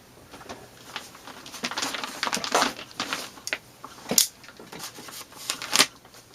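A mail package being cut open by hand, producing close, irregular rustling, crinkling and scraping of packaging material in short bursts, with no talking.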